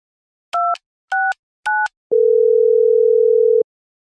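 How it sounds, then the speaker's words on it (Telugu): Dialing a phone number to call: three short, evenly spaced keypad beeps, then one longer steady telephone tone, loud and close with nothing else around. "ఫోన్ నెంబర్ దొరికింది, ఫోన్ చేద్దాం"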